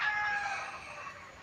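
Free-range chickens sheltering under garden plants give a faint, distant call amid quiet outdoor background noise, a thin drawn-out cry that fades within the first half.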